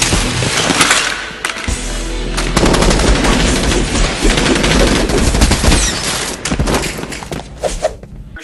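Dense gunfire from the gun kata fight in the movie Equilibrium, rapid overlapping shots and bursts with thuds, loud and nearly continuous across the scene.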